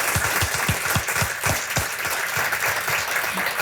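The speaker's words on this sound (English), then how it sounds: "Let's give all those folks a big round of applause." Audience applause at an annual supporter celebration, a steady broadband wash of many hands clapping, fairly loud and continuous, with a few sharper individual claps standing out near the front.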